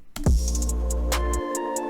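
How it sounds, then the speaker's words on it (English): A produced beat plays a counter melody over a heavy bass boom and crisp hi-hat ticks, the bass cutting out near the end while sustained melodic tones carry on. "Alright, so I added some counter melodies and this is what I came up with."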